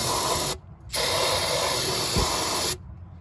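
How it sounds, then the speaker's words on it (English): Brake cleaner spray hisses in two long bursts onto a Nissan Altima's parts, the first short and the second sustained, separated by a brief pause, close and loud. "So I got a little brake clean right here. I'm just gonna spray them down."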